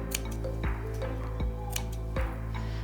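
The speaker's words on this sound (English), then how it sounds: "just take your scissors and do little clips every inch or so up to the seam line" Scissors make three evenly spaced snips into the curved seam allowance of a fabric face mask, crisp close clicks about every three-quarters of a second over a steady background hum.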